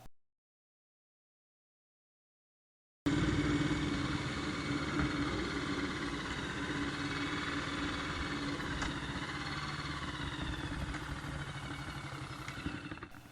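A BSA C15 motorcycle engine runs steadily after a few seconds of silence, a close, continuous single-cylinder chug and mechanical clatter out on a road run with no voices.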